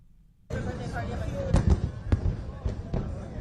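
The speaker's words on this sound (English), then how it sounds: "Can I watch the fireworks?" Fourth of July fireworks pop and crackle at a party, with several sharp bursts at moderate distance over a steady crowd murmur and talk.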